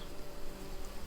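Small Lasioglossum sweat bees and a single housefly buzzing near a hive of Saskatraz honeybees, a steady close-up insect drone with a busy hum that carries through the whole moment.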